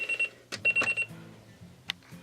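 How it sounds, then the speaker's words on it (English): A bedside alarm clock beeping in short repeated bursts, close and fairly loud, then cut off, followed by faint rustling and a couple of soft knocks. "we're going to start with turning off an alarm"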